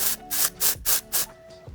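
Five short, forceful bursts of dry shampoo aerosol spray hiss in quick succession at the hair roots, close and loud, each separated by a brief pause.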